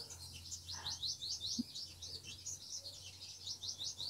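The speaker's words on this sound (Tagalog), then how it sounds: "Ang ingay ng mga ibon" Small birds chirp in rapid repeated bursts, moderately near, over a low steady hum with faint background noise.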